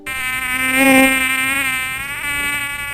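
A mosquito buzzes loudly and close up, a steady high-pitched whine with many bright overtones that swells slightly and holds for the whole stretch, with no voices over it.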